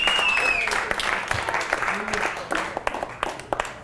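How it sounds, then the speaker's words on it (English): Audience applause in a hall, a steady bed of clapping with a few sharp claps popping out near the microphone, while voices and a brief whistle-like tone sound over it. "Let's get a round of applause."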